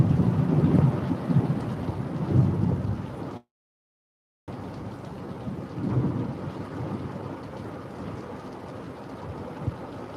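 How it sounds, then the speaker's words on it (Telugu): Heavy rain pours steadily in a thunderstorm, a dense roaring wash with deep low rumbles of thunder. The sound cuts out completely for about a second partway through, then the downpour resumes. "ఫుల్ వర్షం అయితే పడుతుంది"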